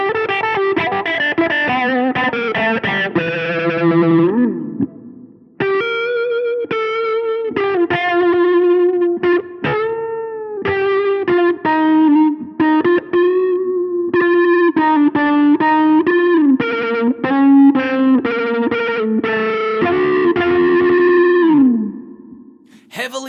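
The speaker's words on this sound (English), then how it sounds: "So I'm guessing this is going to sound a bit like a wah." Electric guitar run through a Bias FX 2 Pro blues preset, heavily processed with a sweeping wah-like envelope filter and distortion, playing sustained notes and bent phrases alone, loud and continuous with short pauses.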